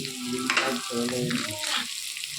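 Onions frying in a pan with a little salt for a pumpkin dish, a low continuous sizzle with a few stirring scrapes, fairly close and steady, with voices faintly over it.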